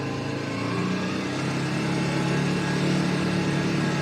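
A Polaris utility vehicle on a farm, its engine running steadily with a low rumbling drone that rises slightly in intensity toward the end, no talk.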